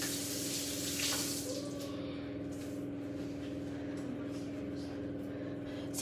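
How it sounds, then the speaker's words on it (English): Tap water runs steadily while hands are rinsed under it at a kitchen sink during food preparation. The soft, continuous splashing stays close and even over a faint low background hum. "Let me just rinse my hands."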